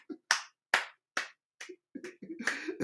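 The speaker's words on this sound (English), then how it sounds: "let us clap, let us clap" Sharp, isolated hand claps ring out in a slow, uneven rhythm, fairly close and moderately loud, with brief gaps of silence between them.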